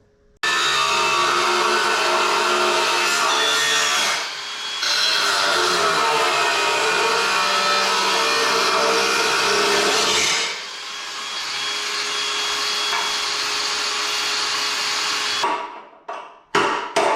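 Cutting out metal on a Triumph TR6 chassis: a loud, harsh, continuous power-tool roar runs close up in two long bursts with a brief pause between, then stops and ends in a few short bursts.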